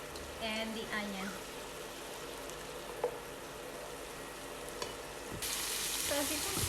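Ground meat and onion browning in a frying pan sizzle steadily under occasional scraping stirs, and a louder, hissier surge of frying rises near the end.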